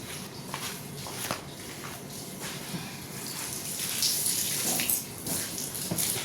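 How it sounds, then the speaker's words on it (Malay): A car washed by hand, with water sprayed steadily across the body and scrubbing strokes rubbing along it, a continuous hiss with rising rushes toward the end. "Kita sembur dan kita gosok."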